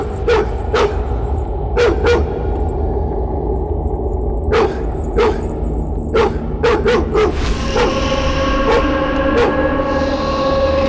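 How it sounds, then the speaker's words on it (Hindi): Dog barking in a Hindi-dubbed South Indian action movie scene, a series of sharp repeated barks spread across the passage over a steady background din, fairly loud. "आपको भी देखकर ये भौंक रहा है"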